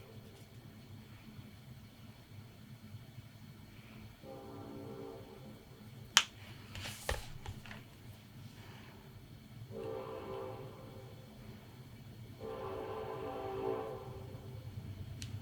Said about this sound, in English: Y'all can hear that train probably.